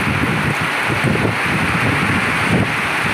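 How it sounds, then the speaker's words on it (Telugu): A wind-driven rainstorm rushes and buffets close to the microphone, a constant loud gusting roar with low thumping wind noise and no voices. "గాలి వాన వస్తుంది ఫ్రెండ్స్,"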